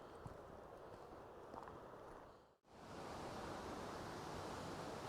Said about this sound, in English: it sounds like we can hear the falls.